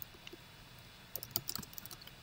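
Quiet keystrokes on a computer keyboard while code is typed, a sparse scatter of soft clicks that clusters into a short quick burst, heard close with no speech.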